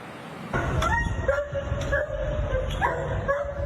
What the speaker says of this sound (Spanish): Los ladridos de Hulk y los golpes se escuchaban desde el balcón de un apartamento